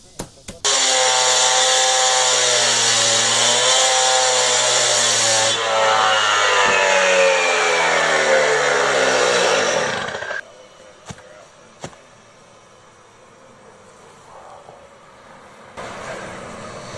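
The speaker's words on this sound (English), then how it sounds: "So what I was doing there was cutting the concrete just to make it a little bit weaker for us to actually be able to sledgehammer" A power saw cuts slits into a concrete driveway. A loud, close, steady high whine runs about ten seconds, with the pitch shifting as the blade works, then it winds down to quieter background noise.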